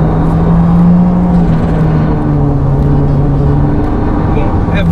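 A Honda CR-V with eco mode switched off accelerates hard, its engine a loud, steady drone with a low hum that holds close and constant throughout.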